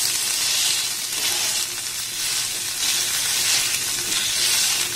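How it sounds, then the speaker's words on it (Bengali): Boiled potatoes are stirred and mashed in a kadai, giving a steady sizzling hiss with soft scraping pulses, close and continuous with no talking. "জাস্ট এই কড়ার মধ্যেই আমি নাড়াচাড়া করে মেখে নেব।"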